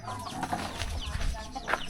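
A rooster clucks and squawks in agitated bursts as people chase it outdoors to catch it. Voices talk over and between the calls.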